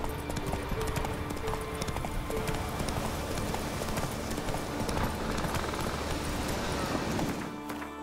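Horse Roach galloping in The Witcher 3 video game, hooves clip-clopping in a steady rapid rhythm for the whole stretch, loud and close over constant background game sound.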